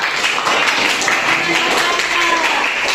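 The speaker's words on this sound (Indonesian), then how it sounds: "Oke, kasih aplaus, tepuk tangan." Classroom applause from students during a teaching practicum: a continuous patter of hand clapping with voices chattering underneath.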